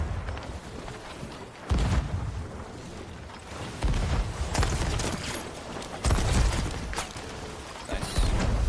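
Shooting in the pirate game Sea of Thieves during a ship battle, several heavy booming shots at intervals of roughly two seconds, each a loud burst against a rumbling sea and ship background.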